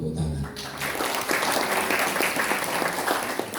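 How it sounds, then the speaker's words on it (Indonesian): Audience applause at a university library talk, a dense burst of clapping from a crowd that follows a brief voice at the start and runs steadily for a few seconds. "Tepuk tangan."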